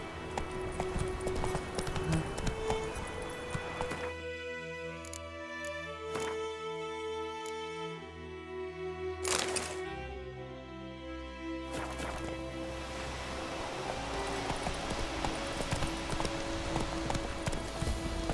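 Roach the horse galloping in The Witcher 3, a steady rhythmic drum of hoofbeats carrying through the whole stretch beneath orchestral music.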